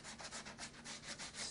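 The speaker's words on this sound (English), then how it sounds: "Sometimes I like to take my sandpaper and actually roll it up." Rolled-up sandpaper is rubbed by hand over paint on a sculpted motorcycle fuel tank, making a soft, steady scratchy rasp in quick back-and-forth strokes, faint and close with no voices.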